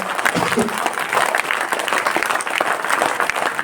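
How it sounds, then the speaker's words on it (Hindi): A hall audience at a business seminar claps loudly for the organizers, dense steady applause with some speech mixed in throughout. "एक बार जोरदार ताली यहाँ के जो भी ऑर्गेनाइजर हैं उनके लिए"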